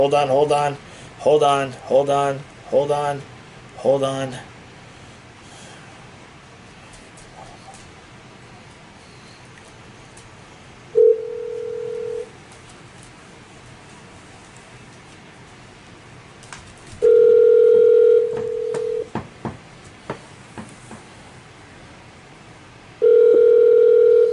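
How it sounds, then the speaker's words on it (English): Steady telephone dial tone sounds in three separate stretches, each lasting a few seconds, after a burst of talk at the start; the tone is loud and clear against a quiet background while a call is being placed. "We're trying to call Michelle."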